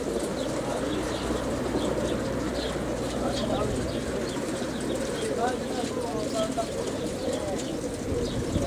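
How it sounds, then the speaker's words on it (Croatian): Homing pigeons at a racing pigeon release coo in a dense, continuous flock murmur, with scattered wing flutters and chirps throughout. "Evo, Pojenje Golubova."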